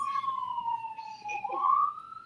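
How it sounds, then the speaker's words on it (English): A siren wails outdoors, one steady tone slowly sliding down in pitch and then back up, fairly clear and continuous with no talking. "Y'all hear sirens."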